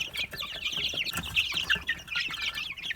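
A roughly three-week-old mixed-breed chick from grey hens chirps in quick, high, repeated peeps, with other young chicks cheeping around it in a busy, close chorus.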